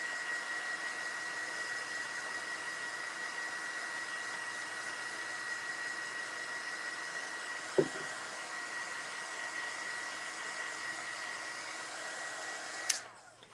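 Close, steady whir of a hair dryer drying a miniature autumn decoration, running unbroken with a faint whine, a brief knock near the middle and a click as it shuts off at the end.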